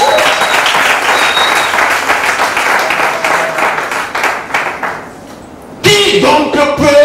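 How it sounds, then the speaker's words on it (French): A church congregation applauds and cheers for the Lord, loud sustained clapping from a crowd that fades toward the end, followed by a short burst of music. "Acclame fortement le Seigneur."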